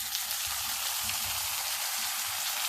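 Onions, curry leaves and tomatoes sizzle and hiss steadily in a hot pan, a soft continuous crackle with faint low clatters underneath.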